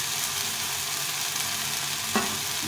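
Small fish frying in oil with chili and turmeric powder, a steady loud sizzle throughout and one brief stirring scrape near the end, close up with no talking.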